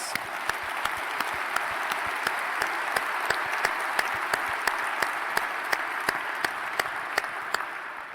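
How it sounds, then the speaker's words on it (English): Sustained applause from a crowded room honouring city council members at a state of the city address, an even wash of many hands with a few louder nearby claps ringing out at regular intervals throughout. "Please give them a round of applause."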